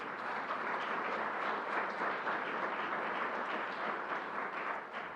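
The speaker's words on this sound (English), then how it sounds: "Let's give them a round of applause." An audience at a LEGOLAND theme park opening event breaks into sustained applause, a dense, even wash of many hands clapping from a crowd, moderately distant, with no speech over it.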